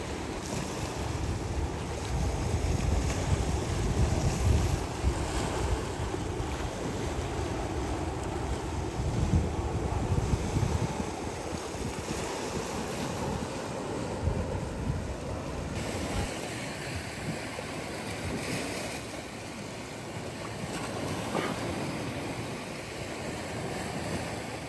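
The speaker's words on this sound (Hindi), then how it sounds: "और ये है उसकी सुंदर सी प्राइवेट बीच." Waves wash onto the private beach at Pelangi Beach Resort on Langkawi island, a continuous rolling surf mixed with gusty wind buffeting the microphone, with no voices.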